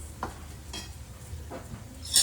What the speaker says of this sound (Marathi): वरतून असं टाकायचं, कडक तेल फोडणी असं द्यायचं